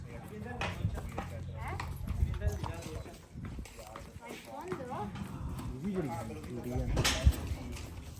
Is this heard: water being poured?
no